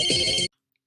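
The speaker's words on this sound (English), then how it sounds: "the phone starts ringing so damn loud" A telephone ringtone from a movie blares loud and close in one short electronic burst, then cuts off abruptly into silence.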